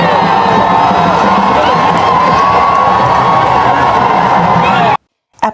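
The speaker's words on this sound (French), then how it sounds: "il est ovationné par une foule enthousiaste des deux bords de la rue" A dense, loud crowd lining both sides of a street in Yaoundé, Cameroon cheers and shouts continuously as Pope Leo XIV passes, children's high voices mixed in, cutting off abruptly near the end.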